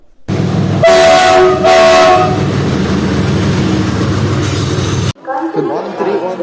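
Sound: Kanchanjungha Express train arriving at station platform

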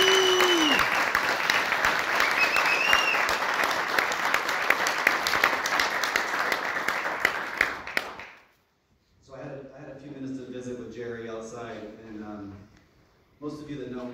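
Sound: audience applause welcoming Jerry West

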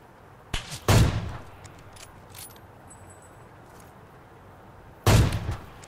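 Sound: gunshots in the video game PUBG Mobile

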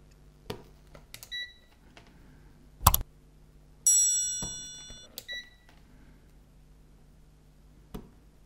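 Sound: multimeter beeping in continuity mode

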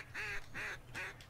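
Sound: ducks quacking in a duck hunting video game

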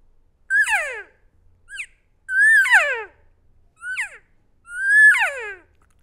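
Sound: loud desperate lonely elk cow call imitated on a call

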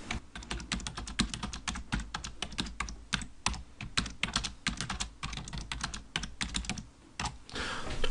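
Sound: typing lyrics on a computer keyboard

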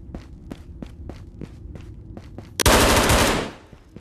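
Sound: gunfire from video game Ghosts of Tabor

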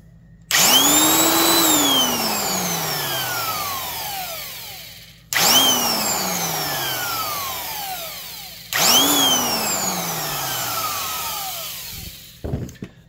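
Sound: Rockwell/Porter-Cable heavy-duty 1/2 inch drills running

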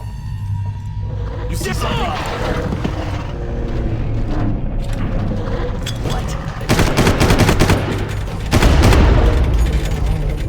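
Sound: Desert Eagle pistol gunshots in video game Far Cry

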